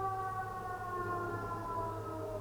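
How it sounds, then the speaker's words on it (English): A siren wails steadily in the distance, its tones holding long and even throughout, with no talking over it. "Do you hear that siren?"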